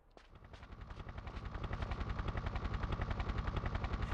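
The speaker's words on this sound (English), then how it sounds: "Helicopter!" A helicopter in the 1998 PlayStation game Tomb Raider III approaches with a rapid, pulsing rotor chop that starts quietly and builds steadily louder, its regular beat sounding alone.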